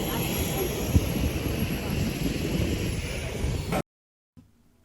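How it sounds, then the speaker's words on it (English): A small propeller plane running near Belize City with a steady droning engine roar that fills the air, loud and close, before cutting off abruptly into silence. "Check out the Small ass plane to Placencia."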